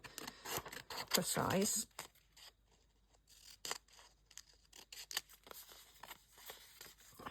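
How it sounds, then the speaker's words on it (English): Scissors snip through paper, cutting it roughly into a rectangle for a junk journal pocket, with a cluster of crisp cuts near the start followed by scattered quieter snips and rustles while a person speaks briefly. "So I'm just going to roughly cut it in a rectangle."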